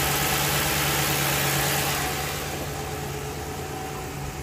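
2006 Ford Crown Victoria with a 4.6 liter V8 engine idling under the open hood, a steady, close low hum with a faint high whine, easing slightly in level partway through.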